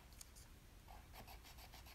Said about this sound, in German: dann geht ihr mit dem Bleistift so darüber und reibt